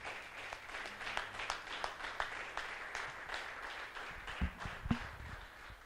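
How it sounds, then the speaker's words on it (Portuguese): Clapping from a church congregation praising the Lord, a soft, steady patter of many hands at a distance with a few sharper claps standing out near the end. "Vamos dar uma salva de palmas ao Senhor"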